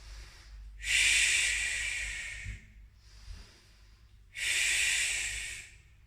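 Someone breathes deeply during a towel or small-ball pilates class, two long hissing exhales separated by a quieter inhale, close and clear with no talk.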